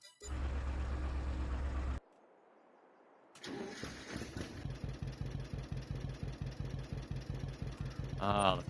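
John Deere two-cylinder tractor engine in Farming Simulator 22 cranking briefly, falling quiet, then starting and settling into a loud, steady, lopey chugging idle with an even pulsing beat.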